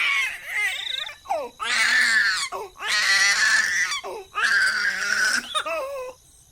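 A little girl's doll crying in a story sound effect, loud sobbing wails in several long bursts with short gasping breaks in between, close and alone.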